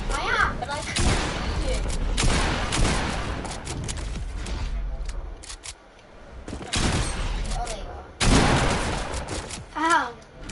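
Rapid bursts of gunfire in Fortnite during a one-on-one match, crackling in fast volleys under excited players talking over the game sounds.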